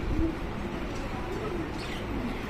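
Pigeons or doves near a nest give soft, low cooing calls, two or three short coos standing out over a steady background hiss.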